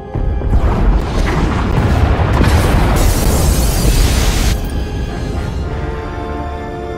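Pod bays blowing apart in Star Wars: The Old Republic, Knights of the Fallen Empire, a loud sustained roar of explosions with deep booms and bursts that ease off toward the end, with no talking.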